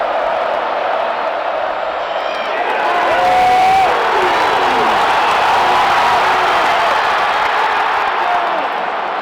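A huge crowd at Bryant-Denny Stadium during an Alabama versus LSU football game roars loudly and continuously, with whoops and whistles rising through it and a swell in the middle.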